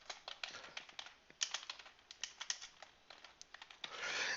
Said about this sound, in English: I would click on the text box and I would type various conclusions